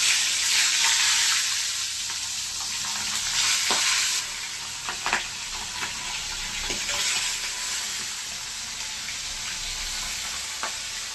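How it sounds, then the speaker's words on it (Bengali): Loud, steady sizzling of tangra fish frying in hot mustard oil, with occasional scraping taps of a utensil stirring in the pan. "তেলটা গরম হয়ে গেছে, এখন মাছগুলি দিয়ে দিচ্ছি।"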